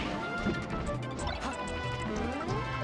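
A down smash lands in Super Smash Bros. Melee on the Battlefield stage, a sharp crashing game hit followed by a busy clatter of further impacts and effects.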